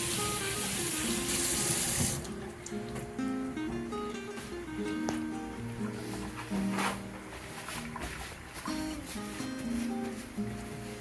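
Water runs from a tap into a kitchen sink being sanitized after handling meat: a bright rushing gush at first, then a steady stream with small splashes and clinks, heard alone.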